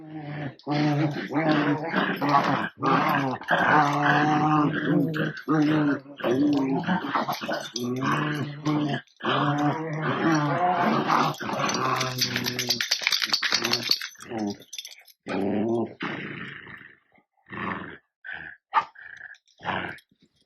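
Several dogs growl and grumble together in a continuous, buzzing chorus, with short pauses near the end.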